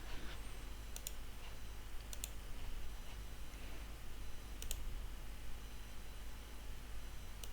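Computer mouse clicks during desktop software setup, a few sharp isolated clicks spaced a second or two apart over a steady background hiss, no talking.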